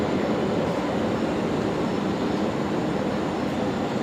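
A Velocity aircraft, flight 73 bound for Canberra, taxis at Brisbane Airport at night, making a steady, loud, unbroken engine roar with no pauses.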